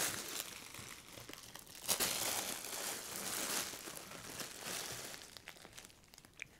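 A plastic package of children's clothes crinkles and rustles up close, with sharp crackles and a few louder crunches, no talking.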